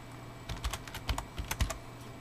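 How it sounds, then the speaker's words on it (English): Keystrokes on a computer keyboard while entering a username and password during a Windows 8 Developer Preview 64-bit setup: a few soft, irregular clicks in short bursts, close and fairly quiet, with no talking. "And you can type in your username and password."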